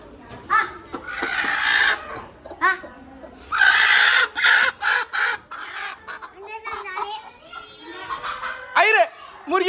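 Hens cluck and squawk in repeated bursts, close by, with people talking and calling in Hindi in between.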